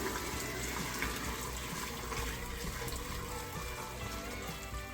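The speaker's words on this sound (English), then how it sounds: "I'm going to pour it back into the pot, the cooking pot that we were using for to make the pho" Chicken pho broth pours through a strainer into a cooking pot with a steady, gushing splash. It is fairly faint and continuous throughout.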